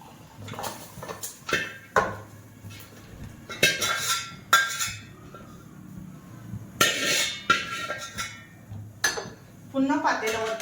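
Cooked home-style mutton is scooped from a metal pot into a bowl: a string of sharp spoon-on-metal clinks and scrapes in irregular bursts, close and moderately loud.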